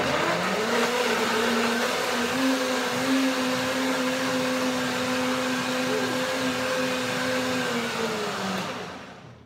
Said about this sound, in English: And I begin the first blending